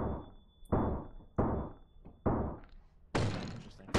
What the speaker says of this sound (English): I just hear the shells hit the ground